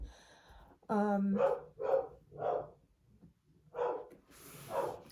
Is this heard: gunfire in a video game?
no